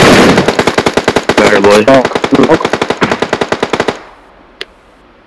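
Rapid automatic gunfire in the battle royale mobile game BGMI, a loud close burst of evenly spaced shots lasting about four seconds, with a player talking over it, then near silence and one faint distant shot.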